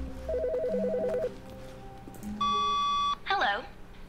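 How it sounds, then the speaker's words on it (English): A telephone rings in The Stanley Parable, a repeated electronic ring and then a steady high beep tone, heard close and clear over low background hum. "there's a phone ringing"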